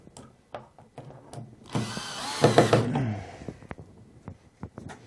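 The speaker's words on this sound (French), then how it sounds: "Avant de prendre la visseuse et de serrer très fort." A cordless screwdriver whirs for about a second, driving screws tight as a wall shelf is fixed in place, with scattered light clicks and knocks of handling before and after.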